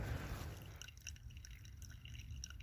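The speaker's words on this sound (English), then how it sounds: "Pouring a cup of coffee via drip, it's just so heavenly." Drip-brewed coffee poured into a cup inside a minivan camper, a soft close trickle and splash that starts fuller and thins to faint drips, with no one talking.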